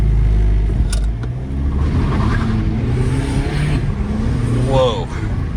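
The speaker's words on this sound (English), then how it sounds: "Just gonna do a little brake boost and launch." A tuned VW TDI 2.0 turbo diesel (CKRA engine, deleted, with an aftermarket pipe) does a brake-boost launch from a driveway, a deep loud engine rumble rising as it pulls away, with a voice speaking over it.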